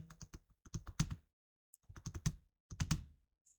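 Computer keyboard keys tapped while typing an Excel formula, in three quick bursts of close, crisp clicks separated by short pauses, with no talking.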